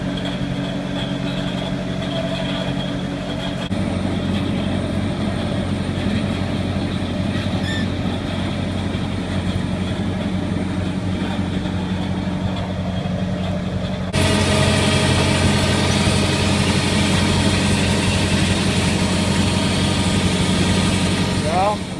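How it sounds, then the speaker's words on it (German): A Fendt potato harvester's engine runs steadily in a field, a continuous low mechanical drone that jumps noticeably louder partway through and then holds at the higher level. "Fahre ich da mit dem Fendt Kartoffelroten."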